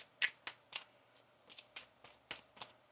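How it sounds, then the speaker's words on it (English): Tarot cards riffle and snap in a series of quick, crisp bursts, about nine short flutters close by in a quiet room. "One more shuffle."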